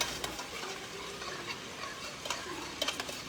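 Shrimp risotto being stirred after more broth is poured in, a soft continuous bubbling simmer with light scraping strokes and occasional small clicks of the spoon against the pot, close and fairly quiet.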